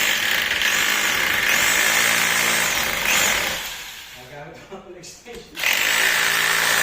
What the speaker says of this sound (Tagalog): Magdidrill na para dun sa kakabitan ng expansion bolt o yung Dynabolt